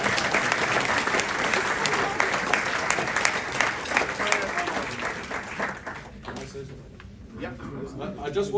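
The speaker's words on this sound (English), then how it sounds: "another round of applause for this guy" Audience at a classic jazz party applauding a jazz musician, a full, steady wash of clapping from a large crowd that fades after about six seconds, leaving room sound and a voice beginning to speak.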